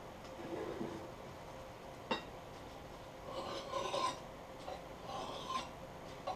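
A knife is sharpened on a sharpening stone at a 22.5 degree angle, a faint, repeated gritty rasp of strokes with a few small knocks.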